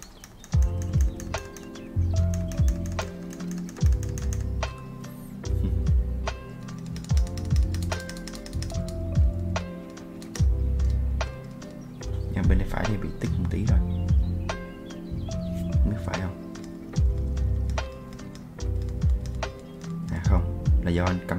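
Fast typing on a Crucible 65 mechanical keyboard with modded switches, a dense close run of crisp clacky keystrokes in bursts that sit under a voice speaking in Vietnamese.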